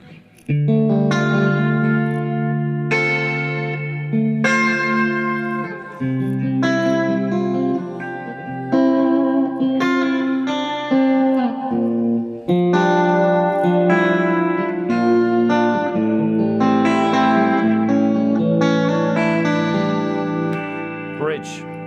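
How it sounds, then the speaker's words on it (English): An electric guitar, a 70s Fender Stratocaster with EMG David Gilmour pickups, plays chords and melodic phrases drenched in shimmering, modulated reverb that swirls and lingers between notes, with no voices. "Bit of modulation on the reverb."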